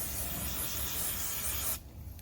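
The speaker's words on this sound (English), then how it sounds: "we're going to spray some more on the rag here" Cleaner sprayed onto a rag during throttle body and windshield cleaning, one long close continuous hiss that cuts off abruptly near the end.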